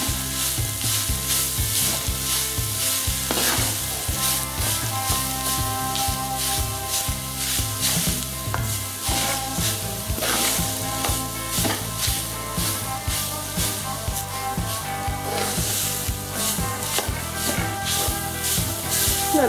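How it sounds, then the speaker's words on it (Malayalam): Tender jackfruit thoran stir-fried in a pan: a steady loud sizzle and frying hiss with frequent scraping stirs of the spoon, close and continuous, with no talking. "നന്നായിട്ടൊന്ന് ഇളക്കി കൊടുക്കാം."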